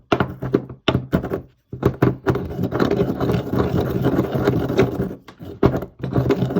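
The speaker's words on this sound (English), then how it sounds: "this is a mortar and pestle that I'm grinding it with" A mortar and pestle grinds ingredients with repeated heavy thunks and scraping strokes, close and loud, in irregular bursts separated by short silences.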